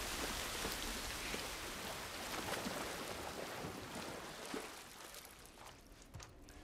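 Steady rain falls in the video game The Last of Us Part I, a dense hiss of drops pattering on surfaces that eases slightly toward the end, with no talk.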